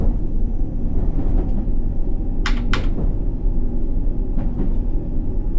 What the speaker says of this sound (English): Only the train sounds.